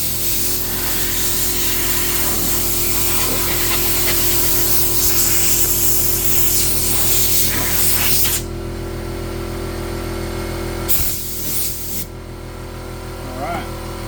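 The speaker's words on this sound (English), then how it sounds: "Sorry again about the air compressor" An air compressor nozzle blows a loud, steady hiss of air across a wooden charcuterie board being finished, continuous for about eight seconds, then cutting out, returning briefly, and stopping near the end.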